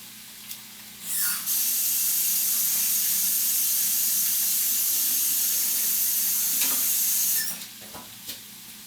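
A beef pepper steak stir-fry with roast beef and vegetables cooks in a pan on low heat, giving a steady, even sizzling hiss for about six seconds with no talking.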